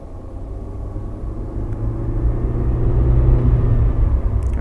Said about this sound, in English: we can hear the car moving along